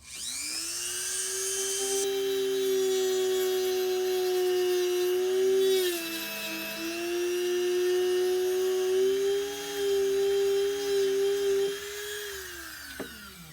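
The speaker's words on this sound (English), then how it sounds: "I'm going to take the Dremel tool here. I've got a cutoff wheel in it, and we are going to slice off this section" A Dremel rotary tool fitted with a cutoff wheel whines at a steady high pitch as it slices a section off a Hexbug Battlebots Whiplash kit, dipping briefly under load midway, then winding down at the end.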